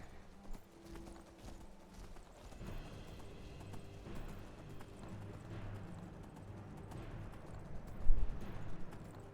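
Horse hooves clop and gallop in Skyrim during a survival-mode play session, a rapid rhythmic thudding that builds steadily over game ambience, with one louder impact near the end.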